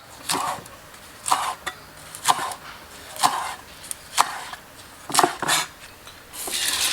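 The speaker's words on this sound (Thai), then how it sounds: "ใบยอนี่เราก็จะมา หั่นเป็นเส้นๆนะครับ" Knife chopping noni leaves into strips on a cutting board, a series of crisp, irregular chops close by with short pauses between, no talking.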